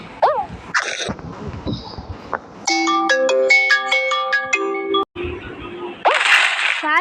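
A phone ringtone plays a bright, repeating melodic pattern for a couple of seconds during a Stumble Guys gameplay recording, loud and close, with other game and room sounds before and after.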